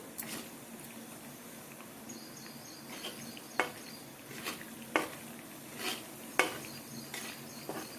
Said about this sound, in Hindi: तो अब इस आटे को अच्छे से भून लेते हैं।